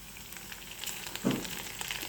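Urad dal frying in hot oil in a pan with green chillies while making upma: a faint, continuous sizzle with a soft stir or drop midway, alone and without speech.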